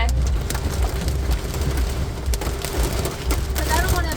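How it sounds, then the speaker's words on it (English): Hail pelting a parked car during a heavy storm, a dense, continuous rattle of small impacts with steady rain-like hiss throughout, loud and close. "That's hail!"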